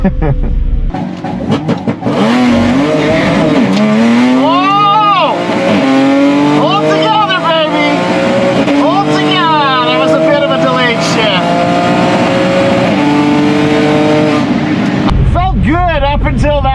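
A tuned 2012 Audi S4 with Integrated Engineering parts launches on a drag strip, its engine roaring loud and near and rising in pitch through several gear changes, one shift sounding delayed, with a voice talking over parts of the run.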